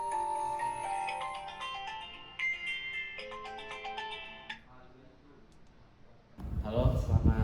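A telephone rings with a repeating electronic ringtone, loud and close, while a call is placed to a doctor about workers affected by a gas leak. A burst of noise follows once the ringing stops.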